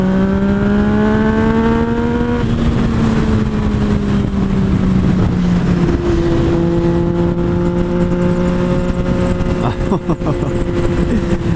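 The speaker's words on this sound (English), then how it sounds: "The sound of this exhaust." A 2017 Yamaha FZ-09 (MT-09) motorcycle engine idles and revs with a steady droning exhaust note, pitch rising and falling, up close, with a voice heard partway through.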